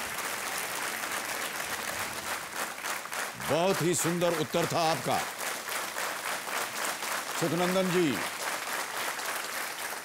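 A studio audience on a TV quiz show claps in sustained, dense applause that runs through the whole stretch, with a voice speaking over it in two short bursts.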